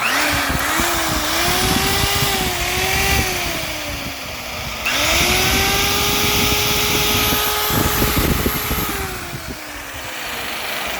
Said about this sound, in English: I just plugged in my electric buffer, and let me see how much it's gonna draw